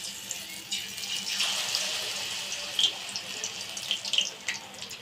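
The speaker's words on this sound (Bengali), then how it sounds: "এবার এটাই গরম তেলে দিয়ে দেবো।" A spiced potato mixture fries in hot oil, giving a continuous close hiss with scattered small pops and crackles.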